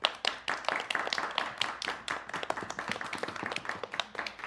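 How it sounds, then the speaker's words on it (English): A group of children clap for a reader, uneven and lively hand claps that start strong and stay fairly close, trailing into a scattered patter over a few seconds. "Let's clap for Will."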